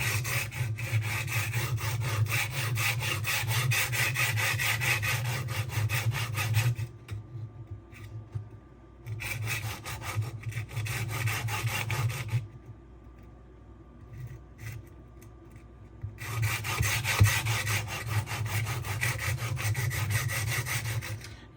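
A knife is drawn across the 1000 grit side of a 400/1000 stone on a Sharpworx utility sharpener, making steady rasping strokes in long bursts separated by short quiet pauses.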